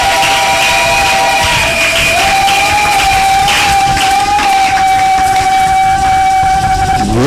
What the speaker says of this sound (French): Acclamez de toute notre force